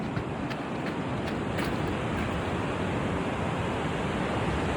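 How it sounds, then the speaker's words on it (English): Bass Strait surf along the Great Ocean Road in Victoria, Australia rolls in as a broad, steady wash of ocean noise, loud and close, with no talk over it. "You can hear it, you can feel it, you can taste it. That's right. It's the ocean."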